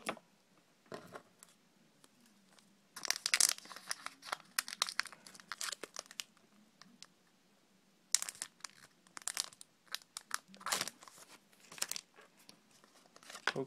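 A Pokemon trading card booster pack from the Plasma Blast set being torn open and handled up close, with crisp foil crinkling and ripping in irregular bursts separated by quiet moments.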